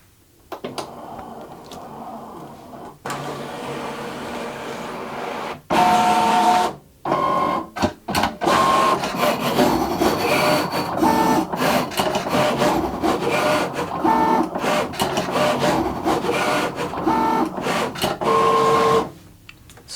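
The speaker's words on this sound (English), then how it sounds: "Then we're just going to load this and cut. Now this Kraftboard does cut with a fine point blade" A Cricut cutting machine slicing Kraftboard with a fine point blade: a close, steady whirring carriage with rubbing, scraping cuts and brief high motor whines as the head shifts, running almost continuously with no talking.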